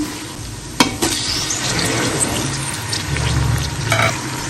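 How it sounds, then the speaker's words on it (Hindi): Chopped tomatoes fry with softened onions in a pan for a white lobia masala curry, a steady crackling sizzle with spoon scrapes and a sharp clink or two of the utensil against the pan, close and clear with no talking. "टमाटर डाल के इसको थोड़ा भूनेंगे"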